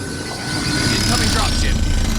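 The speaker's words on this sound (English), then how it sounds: "Incoming dropship." A dropship approaching in Mass Effect 2, heard as a loud, steady helicopter-like engine roar that swells after the first half second and holds, with battlefield noise and a voice calling out over it.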